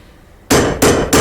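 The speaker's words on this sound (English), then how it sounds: "I'm using a hammer to hit another hammer to get out a nail that I accidentally put in with the original hammer." One hammer strikes another to drive out a wrongly placed nail during roof framing, three sharp metallic blows in quick succession, loud and close with no talking.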